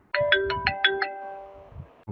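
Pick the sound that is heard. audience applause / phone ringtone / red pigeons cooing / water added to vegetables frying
phone ringtone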